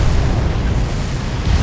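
A deep, loud explosion rumbles in the Far Cry video game, a sustained low boom filling the short stretch with no voices.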